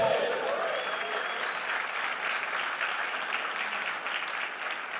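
A church congregation at a pastors' gathering breaks into sustained applause, a thick wash of clapping that starts strong and continues steadily with a faint voice briefly audible at the start.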